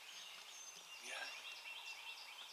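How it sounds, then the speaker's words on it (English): A second wild turkey gobbler gobbles faintly in the distance during a spring hunt, one brief gobble rising out of a quiet outdoor background. "that's a second bird, so we got at least 2 gobblers."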